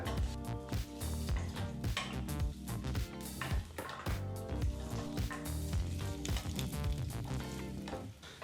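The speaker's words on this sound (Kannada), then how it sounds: "ಲೋ ಫ್ಲೇಮ್ನಲ್ಲೇ ಆಲೂಗೆಡ್ಡೆನೆಲ್ಲ ಫ್ರೈ ಮಾಡ್ಕೋಬೇಕು" Boiled potatoes frying gently in oil in a pan over a low flame, a continuous close crackling sizzle broken by repeated scraping and stirring clatter, no voices.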